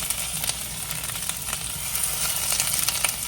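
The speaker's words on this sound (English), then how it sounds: "I got some onions and peppers over here that I'm getting rid of. I'm putting in the pan to saute." Onions and peppers sauté in a pan, a soft, steady close-up sizzle with faint crackles scattered throughout and no talking over it.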